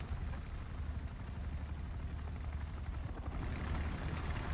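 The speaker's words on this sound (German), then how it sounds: "Das ist unser Heli." A helicopter in the War Thunder video game makes a steady low rotor drone with rumbling engine noise. It holds an even level throughout, with faint high hiss near the end.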